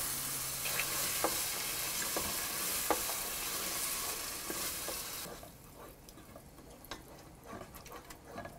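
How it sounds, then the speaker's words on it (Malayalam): Yogurt stirred into a pan of cooked tomato masala for mutton kurma: an even sizzle with scattered spoon scrapes and taps, the sizzle easing off and growing quieter halfway through as the mixture settles. "ഇതിലോട്ട് നമ്മൾ എടുത്തു വച്ചിരിക്കുന്ന തൈര് ഒഴിച്ച് നന്നായിട്ട് യോജിപ്പിക്കുക."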